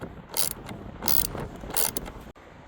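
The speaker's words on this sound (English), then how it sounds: "you will need the 8mm socket and a ratchet to do so." An 8mm socket on a ratchet loosens the air filter cover screws on a Ford Focus engine, giving three loud, close bursts of ratcheting clicks separated by brief pauses, then a sharp knock near the end.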